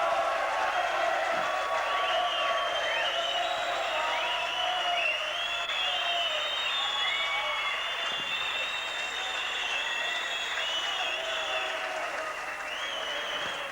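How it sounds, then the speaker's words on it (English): A local crowd in a Bristol boxing hall in 1988 applauds a boxer, a steady, dense roar of clapping with whistles and cheers that runs unbroken at full volume from start to finish. "Moylett there milking the applause of the local crowd."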